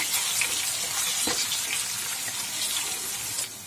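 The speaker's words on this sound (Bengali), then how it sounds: "আলুগুলো আমি একটু নেড়ে চেড়ে ভেজে নেব।" Cut potatoes fry in oil and spices in a pan while being stirred, for a Bengali sweet pumpkin dish. A steady close sizzle hisses throughout, with a brief scrape near the middle.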